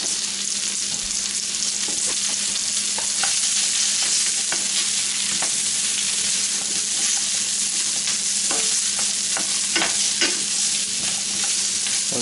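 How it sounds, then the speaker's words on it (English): Sliced cremini mushrooms saute in butter in a pan with a steady, close sizzle, broken by scattered light scrapes and clicks of stirring and no talking. "I'm just going to saute those until they're softened."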